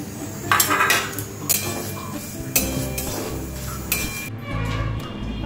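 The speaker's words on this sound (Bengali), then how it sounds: "ততক্ষণ এখানে এগুলো শুকনো খোলায় রোস্ট করে নিচ্ছি।" A dry pan on the stove clatters as spices are tossed and stirred for lemon pickle, with several distinct metallic clinks and scrapes spaced out over a low steady kitchen background, no voices.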